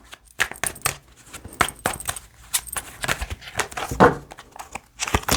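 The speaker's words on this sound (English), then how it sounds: "I don't know why I can't shuffle today." Tarot cards are shuffled by hand in a series of crisp, irregular riffles and flicks, close and fairly clear with brief pauses between.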